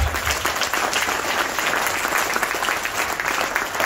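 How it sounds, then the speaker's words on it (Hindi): A hall audience at an award ceremony in a hotel breaks into loud, sustained applause, an even wash of many hands clapping with no voices on top. "एक बार खुद के लिए तालियां बजा दीजिए जोरदार"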